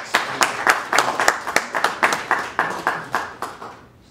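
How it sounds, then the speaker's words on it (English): At a Utah County Republican district debate, a small audience claps in a quick, even rhythm of distinct hand slaps, fairly close and clear, tapering off after about four seconds. "Let's give Mike a big round of applause."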